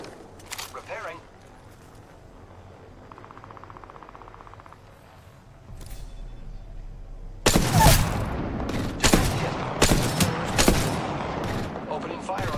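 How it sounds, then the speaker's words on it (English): Gunfire in the video game Apex Legends, a sudden loud burst of rapid shots and repeated sharp bangs after a quieter stretch of faint game sounds, with a game voice line heard. "Opening fire on the enemy."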